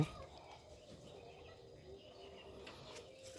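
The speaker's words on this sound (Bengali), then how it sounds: "পোষা মুরগি আমার মুরগির ঘর মুরগিগুলো ডিস্টার্ব করছে শব্দ করে করে" Pet chickens in a backyard coop give soft, scattered clucks and coos, faint and somewhat distant over a quiet ambient background, with no talking.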